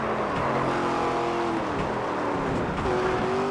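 Race car engine from NASCAR 25 on PS5 Pro, an ARCA Series car droning steadily through a lap at speed, with rising and falling engine tones as it shifts, loud and continuous.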